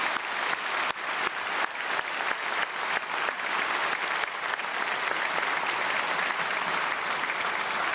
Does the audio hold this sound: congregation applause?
yes